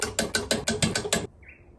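A ratchet torque wrench tightens 13 mm bolts on a lawn mower, a close run of seven quick, even clicks over about a second before the ratcheting stops and the sound falls quiet.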